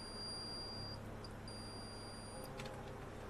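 A thin, high-pitched electronic beep sounds in sustained tones, pausing briefly, over a quiet low hum; a small UPS alarm nearby.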